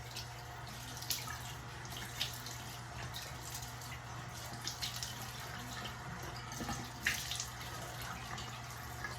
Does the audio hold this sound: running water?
yes